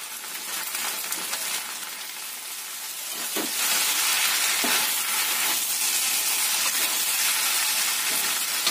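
Kwetiau goreng, flat rice noodles stir-fried in a pan with red spice paste, sizzles with a steady hiss that grows louder and fuller partway through, punctuated by faint scraping stirs.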